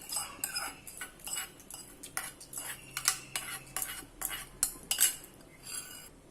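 A spoon stirs a tempering of mustard seeds, urad dal, chana dal and curry leaves into eggplant bajji, giving a rapid series of close metallic scrapes and clinks against the dish, with no talking.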